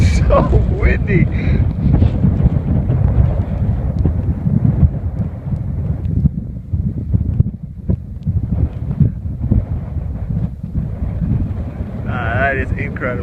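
Strong high winds roar and buffet the microphone continuously through the whole stretch, loud and close, with a person speaking now and then over the gusts.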